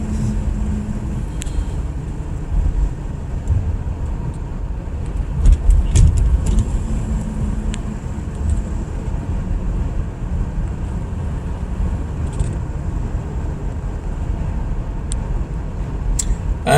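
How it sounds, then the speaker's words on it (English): Road traffic hums steadily on a busy street at this time of day, with cars passing and a continuous low rumble plus occasional brief knocks and wind buffeting, no voices. "Lots of traffic. It just is not gonna cease this time of day."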